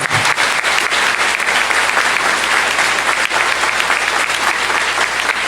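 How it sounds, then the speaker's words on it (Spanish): Loud, dense applause from a large church congregation, sustained clapping throughout. "Dale un fuerte aplauso a nuestro Señor y Salvador Jesucristo."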